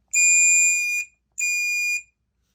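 Two evenly spaced electronic beeps from a home smoke alarm during a test, each lasting about a second, shrill and fairly quiet with silence between them.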